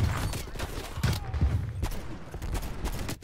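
Bursts of rapid gunfire in the first-person shooter Black Ops Cold War, dense overlapping shots across a busy multiplayer match, loud and continuous with the game's ambience and no talk.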